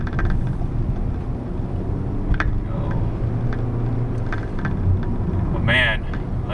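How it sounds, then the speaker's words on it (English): A car cruising along a freeway gives a steady low road and engine rumble throughout, with a few brief bumps and a short higher burst near the end. "I think that's enough freeway driving."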